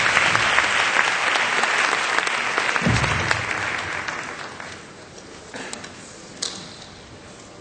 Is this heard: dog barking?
no